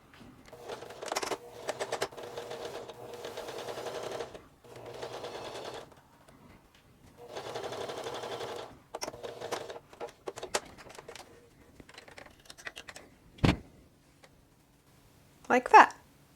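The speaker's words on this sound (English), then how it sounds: "I'm going to sew all the way down to this end of the line where it meets the other seam allowance" A sewing machine stitching a seam on a modern shift dress, running in several bursts of rapid mechanical clatter separated by pauses, close and clear with a few sharp clicks, while a voice talks between stretches.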